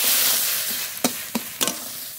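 Boiled ash gourd pieces frying in a pan give a steady close sizzle, broken by three sharp scraping strokes of a spatula as they are stirred.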